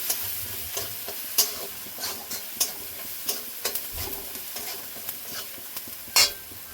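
Ghugni masala with cumin, turmeric and chili powder being fried and stirred in a pan, a soft sizzle under irregular spatula scrapes and taps, close and moderately loud.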